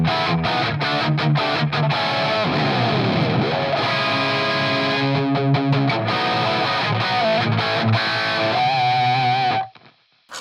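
A distorted electric guitar plays dry through a TONEX capture, with no delay or reverb: crunchy chords and fast riffs that are loud and up close, ending with a sudden cutoff.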